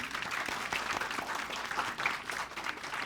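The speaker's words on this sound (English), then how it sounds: "Let's give them a round of applause." A church congregation at Unity Church of Peace claps to welcome new members during a Sunday service, moderate and continuous applause from a modest crowd.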